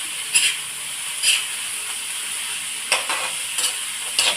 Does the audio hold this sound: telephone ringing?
no